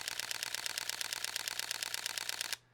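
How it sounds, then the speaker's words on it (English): Sony a7R III camera shutter firing in continuous mode at 10 frames per second, a rapid, even stream of close mechanical clicks that stops abruptly near the end. "if you have continuous shooting, you can hold down that shutter and it's gonna just rapid fire images"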